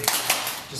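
Tape on a stand-up paddleboard's packaging rail guard is tapped by hand: two quick, close taps in succession, followed by softer handling noise.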